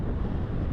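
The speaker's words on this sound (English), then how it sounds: "Wow, it's so windy right now." Steady wind buffeting a microphone, a low, rumbling roar that fills the short moment with no break.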